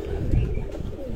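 Khaki-coloured breeding pigeons coo once in a short, close, soft burst in a home loft, with faint background noise and no talk.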